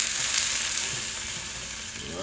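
Red wine vinegar and soy sauce hitting a hot pan for sweet chili wings, giving a loud, steady hiss and crackle of sizzling liquid, close up and continuous.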